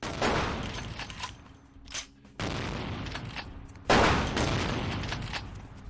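Gunfire in the video game Vampire: The Masquerade – Bloodlines comes as dense, loud bursts of rapid shots and booming blasts, broken by two short pauses, with no talk over it.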